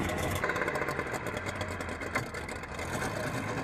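Classic speedboat with a 300-horsepower engine, a low, steady mid-pitched motor drone heard from a moderate distance, fairly quiet and continuous with slight fluctuations, no voices.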